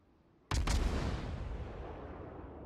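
Warship guns firing in World of Warships: a sudden heavy double boom that rolls into a long, loud rumbling decay lasting over two seconds, alone without talk.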